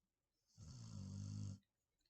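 A single long snore, low and rumbling with a raspy upper hiss, rising from near silence and stopping abruptly after about a second.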